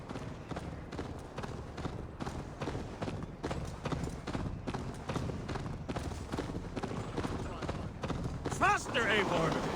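Hooves pound in a fast, dense gallop throughout in the video game Assassin's Creed Valhalla, loud and close, with a brief whinny-like swoop near the end.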